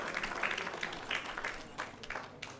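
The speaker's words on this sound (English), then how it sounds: "let's have a round of applause for them again" Wedding reception guests applaud the bride and groom in uneven bursts of clapping that swell and fade over a couple of seconds, with some background voices.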